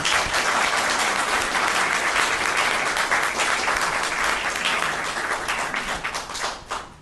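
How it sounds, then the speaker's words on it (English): A city council meeting audience in Inglewood applauds steadily, a dense, even wash of many hands clapping that holds for about seven seconds and only starts to thin out at the very end. "Give him a round of applause, please."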